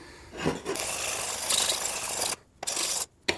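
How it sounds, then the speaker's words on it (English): A knife blade is ground back and forth on a sharpening stone in a salon-quiet space, a close, continuous gritty rasp with short pauses near the end as strokes stop. "it's time to stop grinding on this side and flip it over"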